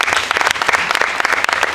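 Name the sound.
audience applause at sales awards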